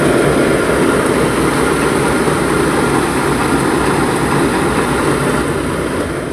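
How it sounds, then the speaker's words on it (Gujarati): A tractor engine runs nearby with a loud, steady, heavy rumble that holds without a break for the whole stretch. "ડ્રાઈવર ટ્રેક્ટર લઈને હેડ્યો"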